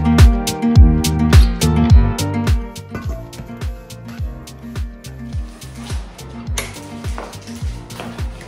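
Freshly washed dishes, pots and cutlery being put away in a home kitchen: close, rapid clinks and clatters ring in a busy irregular rhythm, loud at first and easing slightly, with no one speaking.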